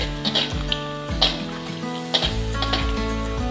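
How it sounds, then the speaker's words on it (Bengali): Cashews and raisins fry in a pan for sabu payesh, giving a steady close sizzle broken by soft clinks and scrapes of a spoon stirring through the nuts. "সাবুর পায়েস রান্নার জন্য কাজু কিশমিশ ভেজে নিব।"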